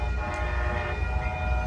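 Amtrak Coast Starlight passenger train No. 11 with an ALC-42 locomotive passing 98th Avenue in Oakland, California, a loud steady rumble of rolling cars under a sustained sounding horn.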